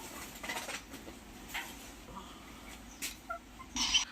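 A Japanese bantam hen calls after laying an egg, with soft, scattered clucks and short squawks at a distance, rising to a louder burst at the end over a quiet background.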